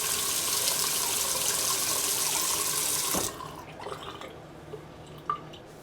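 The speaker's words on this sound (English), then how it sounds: "I'm going to go ahead and run the water." Tap water runs hard into a bathroom sink fitted with a pop-up drain stopper, a loud, steady rush up close that stops abruptly partway through, leaving a few faint drips and small knocks.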